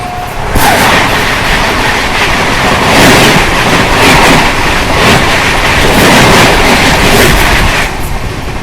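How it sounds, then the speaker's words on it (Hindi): A passenger train roars loudly past while crossing the Patna–Banaras Jan Shatabdi Express near Buxar station, with a continuous close rumble and rapid clickety-clack of wheels that holds steady throughout. "अभी अपनी क्रॉसिंग अभी होने वाली है यहाँ पे पटना बनारस जन शताब्दी एक्सप्रेस के साथ"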